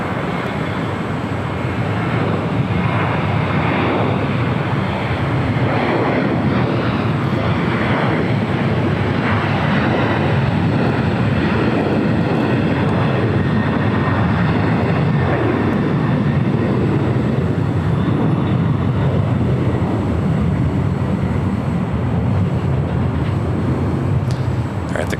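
A Boeing 747-8 taxis at LAX toward runway 25 left, a broad, constant jet engine rumble filling the scene, with a voice speaking over it.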